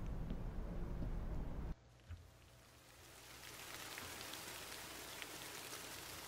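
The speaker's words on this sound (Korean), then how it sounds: "비 내리는구나" Video game rain, first a low, rumbling downpour, then after a sharp cut a steady, bright, faint patter of raindrops on surfaces that slowly swells, with no talking.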